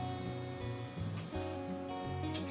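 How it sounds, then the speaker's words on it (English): Teat spray misted onto a dairy goat's teats after milking, a steady close hiss that holds for about a second and a half before cutting off, with a quieter rumble of the setting continuing underneath. "We use a spray that's meant specifically for spraying on her teats. And so we just take it and we spray her off"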